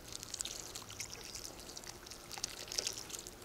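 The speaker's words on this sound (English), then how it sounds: "then I water the trench" Water poured from close by into a freshly dug garden trench, a steady, soft splashing trickle that goes on throughout with no talk.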